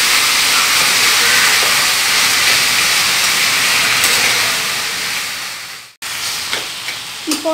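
Scrambled bhetki fish fries in a pan with salt, giving a loud, dense, continuous hiss that fades and cuts off briefly, then resumes with a few clatters.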